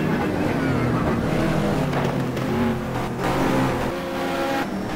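Race car engines from a GT2 racing video game at Anderstorp, including a Porsche running down on power, drone and rev continuously and loudly, with shifting tones as cars pass under steady engine noise throughout.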